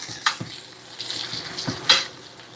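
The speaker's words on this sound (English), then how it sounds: "sear it on one side till your skin is very nice and crispy" Skin-on salmon sears in a hot pan with a soft, steady sizzle, broken by a few sharp clinks of utensils against the pan, close by and without speech.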